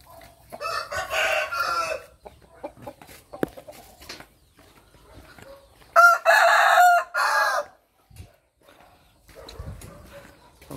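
Chickens and a rooster on a Vietnamese poultry farm: loud, near crowing in two long bursts with clucking in between, and a voice talking faintly in places.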